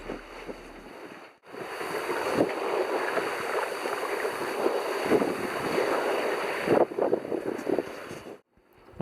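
Water sloshing and lapping around a sailing boat in the Irish Sea with its motor switched off, a steady broadband wash with wind noise on the microphone, running continuously and fairly close for several seconds before cutting out near the end.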